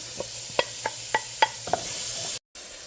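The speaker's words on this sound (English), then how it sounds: "So I added about a tablespoon of olive oil to the garlic. We're going to get that sauteing, and we're on a medium heat." Garlic, celery and onion sauteing in olive oil over medium heat, a steady close sizzle punctuated by about six crisp taps of a utensil on the pan, then a brief cut to silence.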